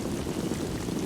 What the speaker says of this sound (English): you could hear the rain just, like, hitting the quote-unquote microphone of the game's camera